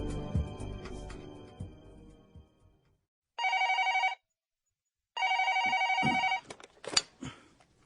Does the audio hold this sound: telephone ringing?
yes